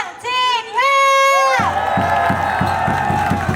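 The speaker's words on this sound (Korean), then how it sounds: "이 정도의 함성소리 나와줘야 돼요" Hanwha Eagles home crowd at a Korean baseball game cheering for leadoff batter Jeong Eun-won, with a loud, rising collective shout, then a rhythmic drum-backed chant with steady beats and crowd noise.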